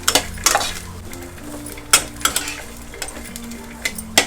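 Metal utensil clinks and scrapes against a pan in irregular taps over a faint sizzle of cumin seeds tempering in hot oil.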